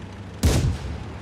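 Tank cannon firing in the video game Tanks Blitz: a single loud, sharp blast that booms and fades out over about half a second, with no voices over it.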